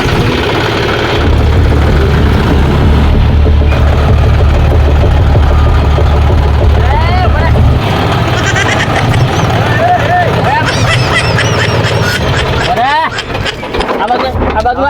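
A tractor engine idles with a steady low chugging rumble throughout, while people talk loudly over it.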